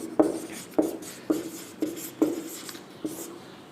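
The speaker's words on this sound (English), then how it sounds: "now also I am going to write the properties" Chalk or marker strokes on a classroom board come in six or so distinct taps and scratches at a steady rhythm, fairly close and clear over quiet room tone.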